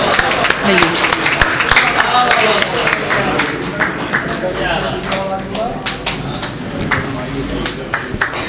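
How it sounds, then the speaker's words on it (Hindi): An audience claps loudly and steadily at a stage poetry event, a dense run of sharp claps lasting several seconds, with voices and cheers mixed in. "एक बार जोरदार तालियां बजाए रद्दा के लिए"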